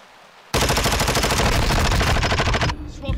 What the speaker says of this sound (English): I put so many bullets into him.